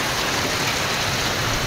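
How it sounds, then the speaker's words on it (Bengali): Heavy, pounding rain falls in Senbag, Noakhali, a loud, dense and unbroken roar of water with no other sounds. "অনেক দিন পর বৃষ্টি দেখলাম।"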